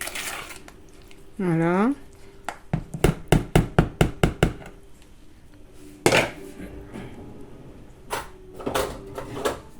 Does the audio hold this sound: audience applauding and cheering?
no